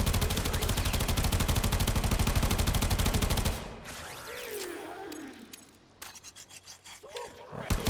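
Primed minigun fire in the game Warframe, a dense, rapid rattling burst for about three and a half seconds, loud and continuous, then cutting off into quieter scattered clanks and swishes.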